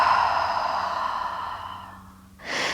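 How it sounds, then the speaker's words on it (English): A single long, deep exhale through the mouth during a yoga breathing exercise, loud and close, tapering off before a fresh intake of breath starts at the end. "take some deep breaths here"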